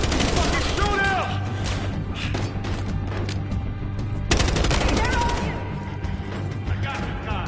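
Sustained automatic gunfire and shots in Battlefield Hardline, a cops-themed first-person shooter campaign, rattling loudly and continuously with booms and crashes, a louder burst midway, under shouted voices.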